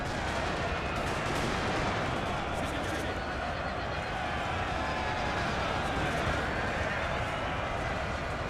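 Grenadier musket fire in Napoleon: Total War, a dense continuous crackle of distant volleys and battle noise filling the scene, with someone talking over it.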